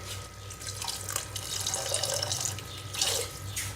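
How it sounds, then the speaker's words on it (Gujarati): Water runs in a steady stream, splashing and gurgling into a cooking pot of sautéed dal and rice for a few seconds, close by and fairly loud. "તેમાં આપણે પાણી ઉમેરીશું"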